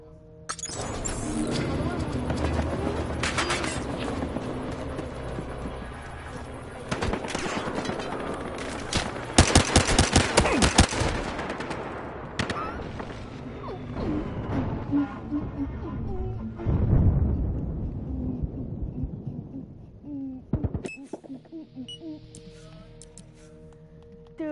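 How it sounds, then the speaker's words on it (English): Sniper rifle and other gunfire from Battlefield Hardline, with bursts of shots and heavy crackling through the first half, thinning into scattered game effects and sharp reports later, with a voice talking over parts. "You pull out a sniper and no-scope someone."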